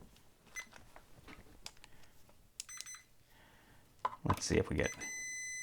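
A multimeter chirps with short electronic beeps while a Malibu 120 to 12 VAC outdoor landscape lighting transformer is being tested, set among handling clicks and a person speaking, ending on a sustained tone.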